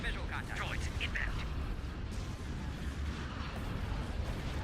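Proton torpedoes explode in a space battle in Star Wars: Republic at War, a dense, loud, continuous barrage of blasts and rumbling bursts with no break.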